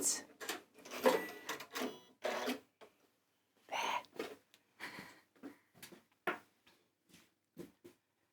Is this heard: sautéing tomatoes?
no